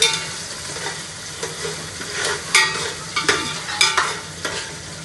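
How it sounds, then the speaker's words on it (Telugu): Cashews, onions and chilies fry lightly in a pan for coconut rice, with a close, bright sizzle and a run of clattering stirs and spoon scrapes. No voices. "జీడిపప్పు, ఆనియన్స్, చిల్లీస్ వేసేస్తున్నానండి. అవి కొంచెం లైట్గా ఫ్రై అవ్వాలి."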